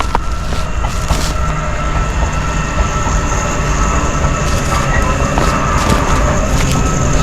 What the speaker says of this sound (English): Freight train. About a mile long.